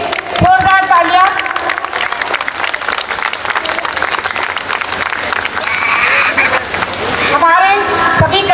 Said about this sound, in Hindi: कृपया इन सभी के लिए जोरदार तालियां।